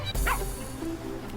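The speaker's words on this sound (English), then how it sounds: "That was our doggy scaring away Mr. Fox over here" A video game dog gives a quick bark or yip at a fox, a short, fairly faint burst followed by a softer whimpering tone.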